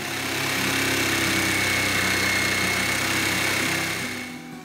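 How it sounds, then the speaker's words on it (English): A Porter Cable saber saw cuts through metal plate in a fabrication shop, a loud, rapid reciprocating buzz that holds steady for about four seconds before tapering off. "I'm using a newer Porter Cable saber saw, and it's nothing special."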